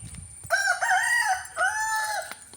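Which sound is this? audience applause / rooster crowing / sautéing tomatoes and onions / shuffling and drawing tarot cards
rooster crowing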